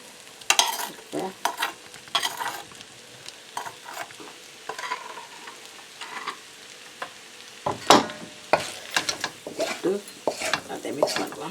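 Fried prawns and egg noodles being stirred in a pan, scraping utensil strokes and clatter over a light sizzle, close and irregular, with louder tosses toward the end.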